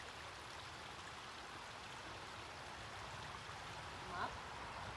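Outdoors, a flowing stream gives a soft, steady broadband rush at low level throughout, with a faint brief call near the end.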